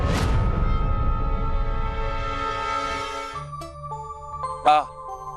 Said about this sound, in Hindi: अरे ये फोन।